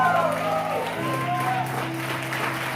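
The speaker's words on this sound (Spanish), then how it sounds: "Un aplauso al Señor esta mañana." A church congregation applauding the Lord during a Spanish-language service, clapping and cheering mixed with voices and tonal sounds, moderately loud throughout.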